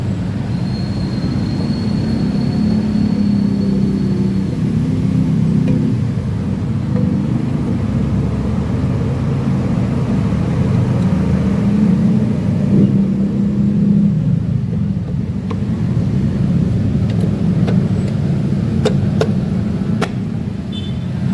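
A Honda Revo motorcycle engine idles steadily after a rebuild with a reused block gasket, a continuous low, even rumble heard close up and alone, with a few faint metallic clicks near the end.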